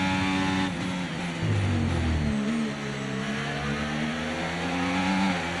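A Formula 1 car in the F1 24 video game, driven as Daniel Ricciardo at the Bahrain Grand Prix, with a loud high engine note that drops under braking off a corner and then climbs again with shifting pitch.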